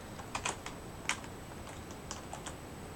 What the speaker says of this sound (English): Oops, pressed the wrong key again